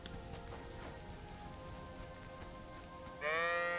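A ram in the video game Kingdom Come: Deliverance II gives a single loud, wavering bleat near the end, after quiet ambient game sound and background music.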